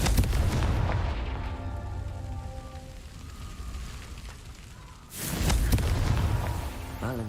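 A Confringo fire spell explodes in Hogwarts Legacy, a loud booming blast with rumbling debris, then a second heavy burst after a brief lull.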